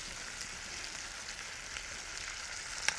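Peppers and onions fry in rendered sausage fat for a sausage hoagie, a steady close sizzle with soft crackles throughout and one brief sharp pop near the end.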